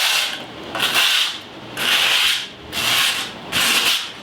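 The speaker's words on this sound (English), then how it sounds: "we're going to take that now and use it to sand down the rail of the board," A skateboard deck's rail edge rubbed with a scrap of grip tape, making four slow, even rasping strokes with short pauses between, close up and with no voices.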